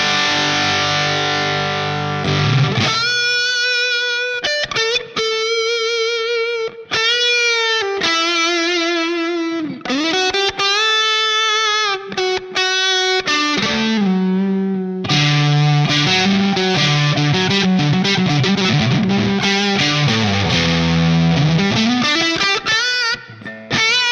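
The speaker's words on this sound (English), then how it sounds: "First effect I'm going to use is a boost comp, and that kind of gives me kind of a second channel with the amp, gives me a little bit more hair." Electric guitar run through a Line 6 POD HD500 boost comp effect into a Plexi Lead 100 bright amp model (Marshall Super Lead 100), giving a loud, slightly hairy overdriven tone as sustained notes, bends and chords ring out continuously with no talking.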